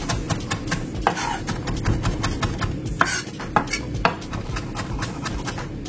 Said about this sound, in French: le restant, on va le hacher